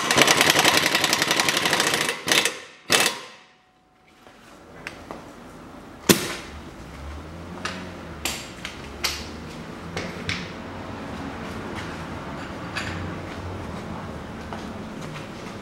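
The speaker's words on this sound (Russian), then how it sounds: "Затягиваю шаровую." Ratchet or wrench tightening the front lower ball joint nut on a Toyota Mark II JZX101: rapid loud ratcheting clicks, then a pause and scattered sharp metallic clicks and knocks close by.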